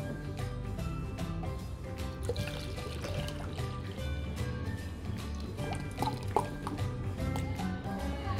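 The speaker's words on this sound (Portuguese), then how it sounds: "Agora eu vou adicionar a solução de sulfato de cobre." Copper sulfate solution poured steadily into a lime and water mixture for Bordeaux fungicide, a continuous liquid trickle and splash lasting several seconds over a busy background.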